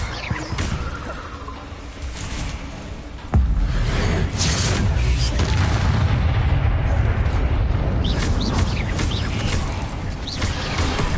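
The Bombarda spell in Hogwarts Legacy goes off as a sudden loud explosive boom, followed by a long, dense rumble and crackling debris that keeps going.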